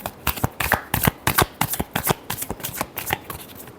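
Tarot cards being riffled and shuffled in a quick run of sharp, papery flutters and snaps, close and fairly loud with no talk over them.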